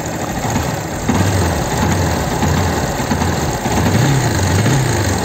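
A motorcycle engine idles steadily and close by after its throttle cable has been swapped to the return position, with a low rumbling pulse and slight fluctuations in revs, no talking.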